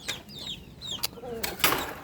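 Backyard chickens, bantam hens with a rooster nearby, give short scattered clucks and squawks close by, a few quick calls over about two seconds.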